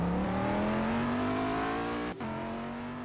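A GTE race car at Daytona during a six-hour race, its engine holding a loud steady tone that climbs in pitch before a brief shift gap and continues close by.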